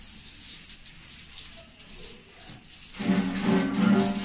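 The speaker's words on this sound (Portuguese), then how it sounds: "jogar a água primeiro." Water thrown across a dirty kitchen during a first post-construction cleanup: quiet background at first, then a sudden loud splashing rush of water for the last second or so.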